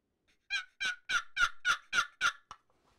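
A wooden regular box call imitates wild turkey calls: seven raspy, evenly spaced yelps, loud and close, with nothing else heard, then a short clipped final note.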